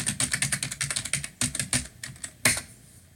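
Password being entered on a computer keyboard, a quick run of crisp close keystrokes with a short pause midway, then a few slower taps and a final louder keypress.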